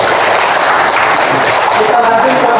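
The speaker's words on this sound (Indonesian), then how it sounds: "Tepuk tangan." An audience at a teacher-training class session applauds. The clapping is dense, loud and steady throughout the short stretch, with no break.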